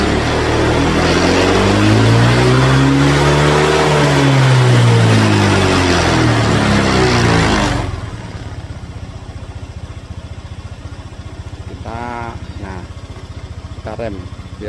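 A Honda Vario 150/125 scooter engine with a faulty idling stop revs loudly, pitch rising and falling for several seconds, then cuts down to a steady low idle with a few faint voices.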